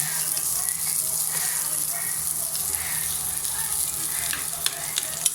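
Spices frying in a pan, a close, steady hissing sizzle with scattered pops and occasional stirring, running continuously at an even level.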